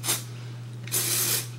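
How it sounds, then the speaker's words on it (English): Dry shampoo sprayed onto hair in two short aerosol bursts, a close, breathy hiss with a pause between them and a faint steady hum underneath. "Just know your hair is never good enough to go without dry shampoo."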